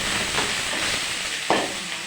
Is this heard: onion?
yes